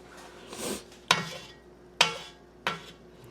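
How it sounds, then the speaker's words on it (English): A knife cuts through an onion on a kitchen board with three separate sharp chops, each followed by a short softer scrape, close and clear in a quiet room. "I am gonna cut the rest of that onion"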